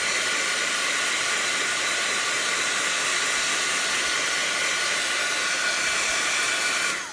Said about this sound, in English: You don't mind sitting here with the heat gun for a few seconds